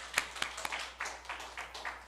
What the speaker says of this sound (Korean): 자, 하나님께 영광의 박수 돌리겠습니다.